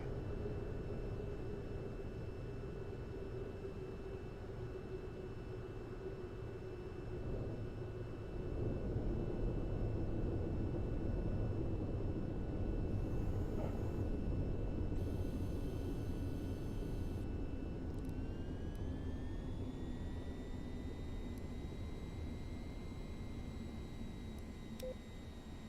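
A VTOL aircraft's engines drone steadily in the VTOL VR flight game as it transitions into hover, a continuous low roar with pitch slightly shifting, overlaid by sustained cockpit tones and brief electronic beeps.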